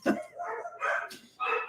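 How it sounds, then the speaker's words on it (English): A few sharp dog barks close by, in quick bursts with short pauses between them. "can you hear that barking?"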